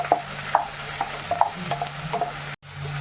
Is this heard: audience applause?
no